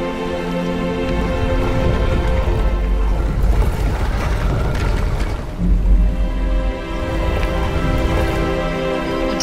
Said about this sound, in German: da geht das Wasser runter